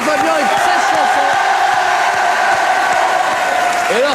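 A studio audience at a French television show cheers and applauds loudly and continuously, a dense crowd roar with whoops and shouting voices layered over the clapping.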